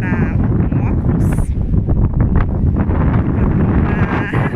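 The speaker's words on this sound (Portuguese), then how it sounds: "Olha esse vento." Strong outdoor wind buffets the microphone with loud, steady rumbling gusts at Figueira da Foz in Portugal's Coimbra district, while people talk underneath.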